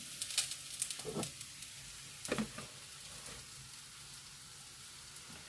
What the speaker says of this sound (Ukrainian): І отак помішуючи їх, просто смажемо.